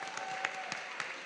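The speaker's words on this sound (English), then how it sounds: "I feel like we should give them a round of applause" A summit audience applauding the panelists, a brief, steady burst of many hands clapping together at moderate volume.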